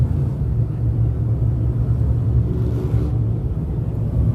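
358 small block modified race cars produce a deep, constant low rumble at K&M Speedway, a thick continuous engine drone at a distance with no voices over it.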